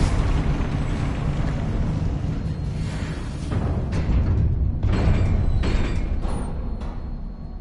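The Confringo explosion spell goes off in Hogwarts Legacy as a loud, sustained roaring blast with rumbling bursts, close and dense throughout, with no voices over it.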